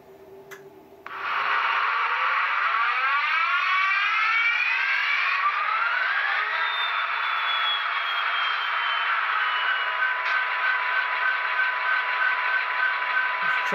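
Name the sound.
Athearn SD75M model locomotive DCC Tsunami sound starting up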